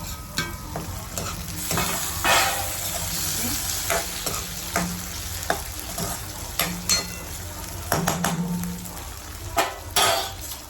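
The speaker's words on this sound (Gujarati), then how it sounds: "સો ડુંગળી થોડીક બ્રાઉન થઈ ગઈ છે. ટામેટાં નાખી દઈએ આપણે." Tomatoes go into a pan of browned onions, setting off a loud close sizzle with repeated spoon scrapes and clanks against the pan, and brief muffled talk in the background.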